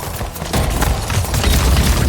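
Enemy gunfire in the video game Anthem, a dense burst of shots and impacts that grows louder after the first half second and keeps up a heavy, crackling barrage to the end.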